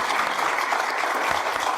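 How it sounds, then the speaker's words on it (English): An audience at a panel discussion claps for the panelists, giving a dense, steady round of applause that fills the whole short moment with no pauses. "A round of applause for all our panelists."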